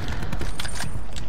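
Gunfire in a shooter video game from a sniper rifle, a dense, loud burst of shot and mechanical clatter filling the whole moment with no voices.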